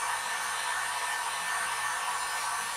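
A heat gun or hair dryer blows with a steady, even hiss at close range, warming craft foam for jetpack armor, with no other sounds.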